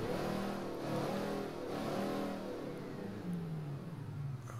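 A V16 roadster engine in Mafia revs steadily, its rising and falling harmonic whine sweeping up and down at close range with no talk over it.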